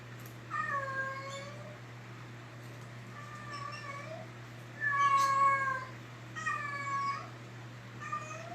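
A cat meows repeatedly, about five clear, drawn-out calls spaced a second or two apart, close and moderately loud over a steady low hum indoors.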